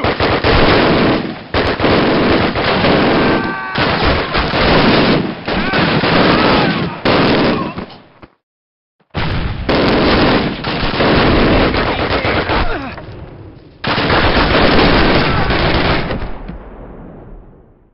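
Bursts of machine gun fire from a mounted MG in the World War II shooter Call of Duty, loud and sustained in several long strings with brief pauses, the last burst trailing off.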